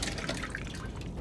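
Toilet water being collected in the survival video game The Long Dark, a short steady liquid trickle and dripping sound, fairly quiet and continuous without talk.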